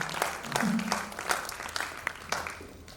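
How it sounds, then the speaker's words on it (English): Applause from a conference audience at a summit, a steady wash of clapping lasting the full few seconds with a few sharper individual claps standing out. "Please clap very well so that the Impact Review will be impactful."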